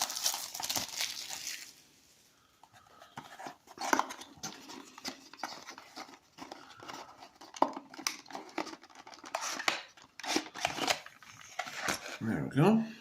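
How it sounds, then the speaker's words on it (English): Packaging around a heavy metal diecast model car being unwrapped, with steady close crinkling and rustling of plastic and paper and scattered handling knocks, under occasional talk. "it will be easier to unwrap this thing"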